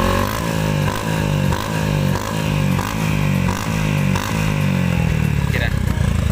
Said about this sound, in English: Exhaust Kati standard LC punya.